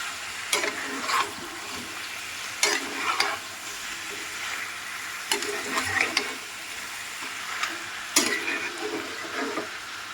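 Chicken pieces coated in salt, turmeric and Kashmiri chili powder being stirred in a pan, with a soft steady sizzle broken by recurring scraping, clattering strokes every couple of seconds.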